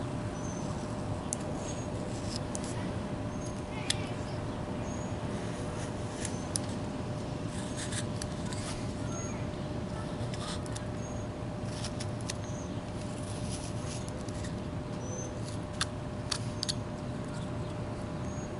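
A carving tool cuts into a dental implant model in a steady run of small scraping and clicking nicks, close and fairly quiet over a constant low hum.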